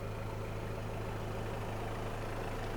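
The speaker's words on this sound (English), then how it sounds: "I'm gonna turn the engine off here because we've had it running for enough" A 1993 Toyota Hiace Super Custom Limited van's 3.0-litre turbo diesel idles steadily with a dense, low rumbling drone, close and continuous without change.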